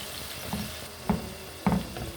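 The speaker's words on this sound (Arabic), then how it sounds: "هننزل بقى بالكبده بتاعتنا" Liver dropped into hot oil in a pan fries with a soft, steady sizzle, with a few brief louder crackles and stirring knocks close by.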